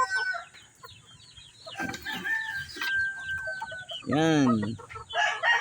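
Pet roosters cluck nearby, then one lets out a loud, full crow near the end of the clip. A brief spoken word sits between the bird calls.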